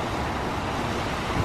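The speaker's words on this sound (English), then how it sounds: "It is super windy today." Strong wind roars and buffets steadily throughout, a dense broadband rush with low rumbling gusts and no voices.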